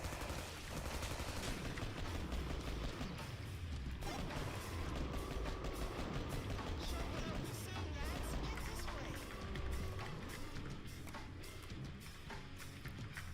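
FAL rifle gunfire in the video game Killing Floor: dense, continuous rapid shooting mixed with crashing game chaos, sustained at steady loudness throughout.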